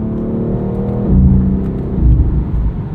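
Engine of a 2022 BMW X3 M Competition with an 8-speed gearbox, heard from inside while driving: a steady low drone that swells and rises in pitch as it revs, with brief shifts between, no talking.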